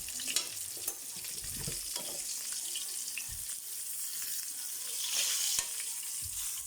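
Garlic sautéing in a pan for ginisang sayote sizzles softly and steadily, with scattered scrapes and knocks of a utensil. The frying swells a little louder toward the end.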